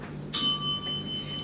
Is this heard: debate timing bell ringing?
yes